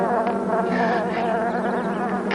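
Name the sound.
swarm of bees buzzing around a car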